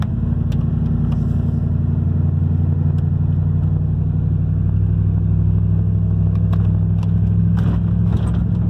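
A Ford Bronco engine with an exhaust leak and a lean-running condition revs steadily while the truck sits stationary, a loud, continuous low drone that holds throughout with slight rises in pitch and occasional sharp ticks.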